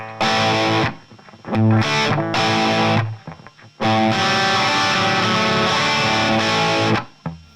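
Distorted electric guitar riff played alone, chunky bursts separated by short pauses, then a longer sustained passage ending abruptly.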